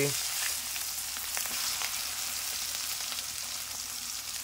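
Chopped onion sizzling in hot oil with a tempering of dried red chillies, a steady bright frying hiss close by, with no voices.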